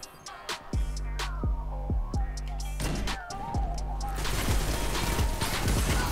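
Sniper rifle shots and other gunfire in Destiny 2, with a series of heavy, booming shots at a steady rhythm, followed by dense, sustained noisy firing and impacts.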